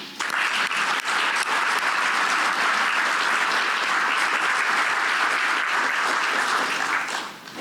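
Sustained, loud audience applause fills the room at a Cayman Chamber event as Chamber President Joanne Lawson is welcomed to the stage, steady clapping throughout before tapering off at the end.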